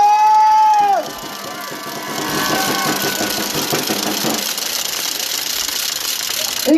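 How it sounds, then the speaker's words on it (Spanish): A crowd at a Movimiento Ciudadano political rally in Mexico applauds and cheers. After a brief sustained tone at the start, a dense, steady wash of clapping fills the rest of the clip. "Un aplauso por favor."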